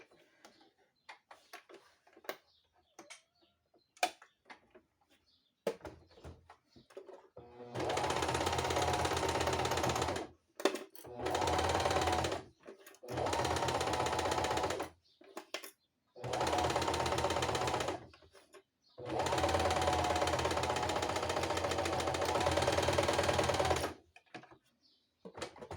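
A sewing machine stitches a fabric wallet in several steady mechanical bursts, close and loud, separated by short pauses, after a quiet stretch of small handling clicks at the start.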